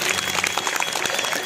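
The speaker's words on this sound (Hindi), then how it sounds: "उन सब के लिए एक बार जोर से ताली बजा के स्वागत करिए" Audience at a devotional gathering clapping in welcome, a dense steady wash of many hands applauding throughout at a constant level, with no voices standing out.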